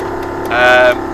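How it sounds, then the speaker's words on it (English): A boat's engine hums steadily at close range, swelling briefly louder with a rising tonal whine in the middle before settling back to its even drone, heard alone with no talk. "Engine's running well so far"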